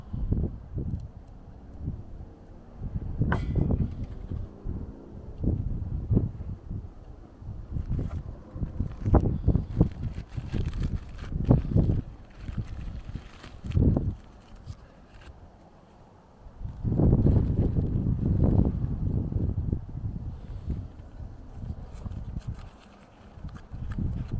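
Strong wind blows across an outdoor cooking spot, roaring and buffeting the microphone in uneven gusts with thumping low rumbles and a sustained heavy stretch late on.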